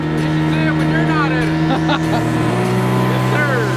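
A 25-horsepower outboard motor on a fishing boat out on a lake runs loud and close in a steady droning hum, its pitch dropping slightly partway through.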